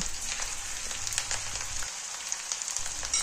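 A paste of ginger, turmeric, cumin and dried chili with bay leaf pieces frying in a pan, a close, bubbling sizzle with fine crackles and spatters that stays steady throughout.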